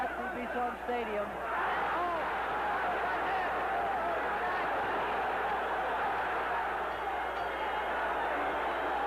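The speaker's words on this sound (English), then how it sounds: "The crowd is on its feet here at the Bison Stadium." A boxing crowd roars and cheers steadily at Bison Stadium during a title fight, a dense, loud wall of voices that swells early and holds without a break.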